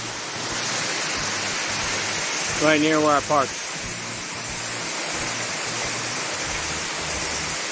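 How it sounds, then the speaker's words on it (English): A waterfall just below a road on the Fall Creek Falls trail gives a continuous rushing roar throughout, with someone speaking briefly over it partway through. "This waterfall here is actually right below the road."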